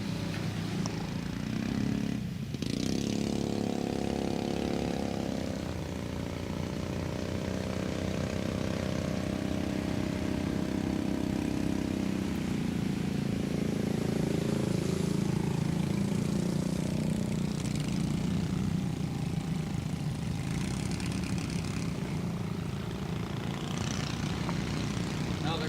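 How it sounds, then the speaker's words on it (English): 9 horsepower sprint cars race around the Grand Bend Speedway short track in Ontario, their small engines droning as a steady, loud buzzing pack throughout, with a commentator's voice faint underneath. "here come the 9 horsepower sprinters."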